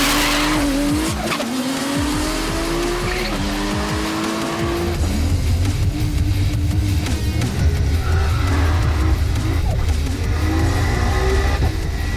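A drag race car at Sydney Dragway, run despite a popped shim, roars down the strip with loud engine howl and tire squeal, the pitch sweeping through gear changes before settling into a sustained, steady drone.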